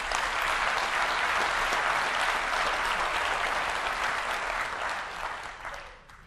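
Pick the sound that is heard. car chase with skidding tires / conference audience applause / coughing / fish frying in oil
conference audience applause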